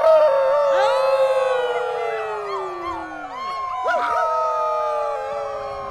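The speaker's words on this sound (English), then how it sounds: "We're not gonna stop howling." A crowd of people howling together, long rising and falling wails overlapping in a sustained chorus, loud and close, with a second swell of howls near the end.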